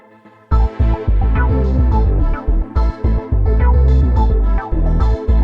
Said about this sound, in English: It's the Synth Lab preset in Effect Rack that sounds like this.